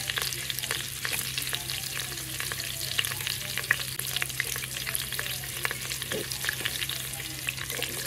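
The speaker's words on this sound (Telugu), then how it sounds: "పచ్చిమిర్చి వేసేస్తున్నానండి." Green chillies sizzle and crackle in hot oil in a pan for veg pulao, with steady frying hiss, scattered pops and occasional stirring, close and moderately loud with no talking.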